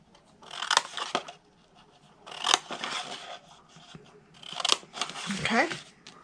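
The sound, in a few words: scissors cutting apart paper squares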